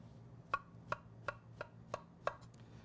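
A knife cuts white button mushrooms into quarters on a board in a steady rhythm of six quiet, crisp taps spaced about a third of a second apart, close up and with no talking.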